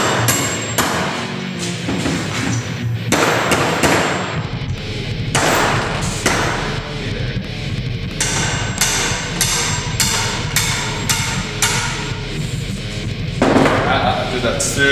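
A hammer pounds a bolt through a wooden bat, striking with a series of loud, repeated thuds and clanks over continuous background noise.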